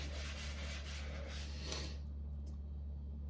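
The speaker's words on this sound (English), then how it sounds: "Turn the cup with your fingers and keep scrubbing the outside as you rotate the cup around." A scrubby works around the outside of a cup as it is turned by hand, making a continuous close rubbing scrape over a low steady hum that stops abruptly near the end.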